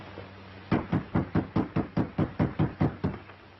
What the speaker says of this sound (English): Knock again, louder.